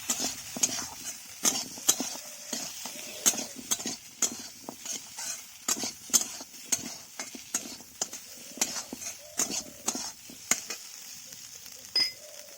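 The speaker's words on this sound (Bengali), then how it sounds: "ভালো করে এবারে নাড়াচাড়া করে নেব।" Turmeric and chilli powder fry in a pan for a sweet-sour chutney as a spoon stirs them in quick, repeated scraping strokes over a soft sizzle, close and continuous, with no talking.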